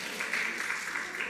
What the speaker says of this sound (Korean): 이게 박수 받을 일입니까?